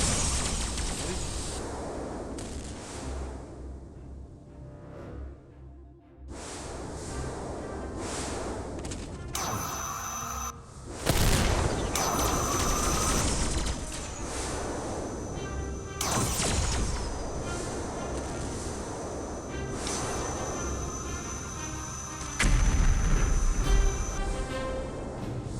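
Ship cannons fire and land hits during space fleet combat in a video game, a busy run of loud booming impacts and crashing bursts over a layered music and effects bed.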